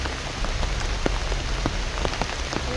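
Heavy rain pours down steadily and densely on surfaces nearby, with scattered individual drops and splashes standing out against the constant wash of noise.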